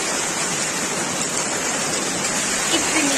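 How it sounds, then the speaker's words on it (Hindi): Heavy rain pouring down outside, a dense, steady hiss that stays loud and unbroken throughout with no voices. "इतनी ज़्यादा बारिश हो रही है"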